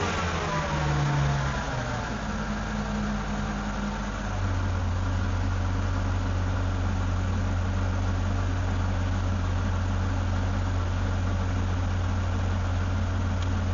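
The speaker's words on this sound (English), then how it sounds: "Start the engine." A Mercedes R230 engine cranks briefly, catches and settles into a steady, smooth idle that drones on evenly and close by.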